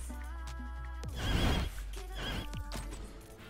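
A horse in the video game Fortnite lets out a loud, close whinny that rises and shudders, followed by a shorter second neigh, with a faint clip-clop of hooves alongside.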